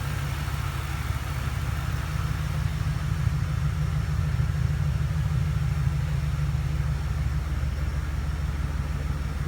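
2001 Lincoln Continental 32-valve V8 idling with its muffler ripped off after a rear collision, a steady low throaty rumble with a pulsing exhaust beat, continuous and close, no voices.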